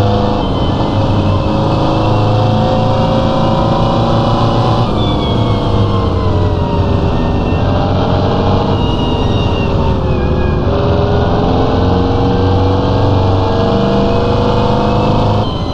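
A 1964 Mini Cooper engine drones steadily and loud in Assetto Corsa as the car drives a mountain road, pitch rising and falling with gear changes and throttle over a continuous revving hum.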